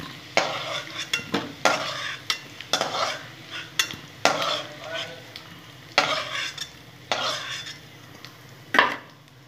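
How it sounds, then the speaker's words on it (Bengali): Potatoes fry in hot oil for an egg curry, a crackling sizzle punctuated by repeated rhythmic spatula scrapes and metal clinks against the pan, fairly close and busy throughout. "আলুগুলো ভেজে নেবো লাল লাল করে"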